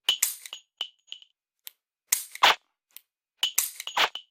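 Dry-fire laser training pistol with a G-Sight/LaserHit firing pin in an MK9 CMMG, sharp trigger clicks with electronic chirps, in spaced pairs and singles, close and crisp.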